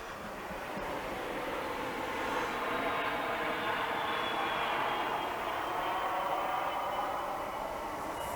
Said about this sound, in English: Someone's private airplane above us.